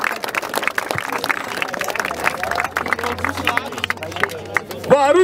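Audience applause and cheering fill the room after a round at the 67th Batalha da Aldeia rap battle in Barueri, São Paulo, as a steady crowd roar with claps runs under a voice, followed by a brief shout near the end.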